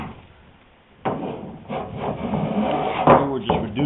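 Hand plane shaving a wooden rail during a Thistle sailboat repair, heard as a run of close, rasping strokes that begin abruptly after a quiet lead-in and continue unevenly, with one louder scrape near the end.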